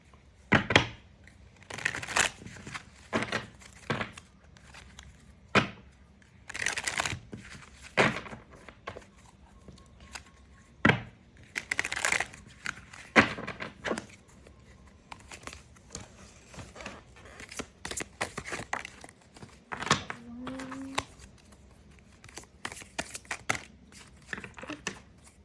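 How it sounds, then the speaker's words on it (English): Tarot cards being shuffled by hand, scattered sharp riffles and soft slaps in uneven bursts with quiet gaps between them, close and fairly faint. "we're going to go ahead and shuffle some cards."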